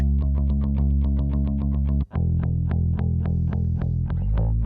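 A bass guitar plays a steady run of repeated plucked notes; after a brief drop the effect plugin is bypassed, changing the tone's character as it continues with the same rhythm.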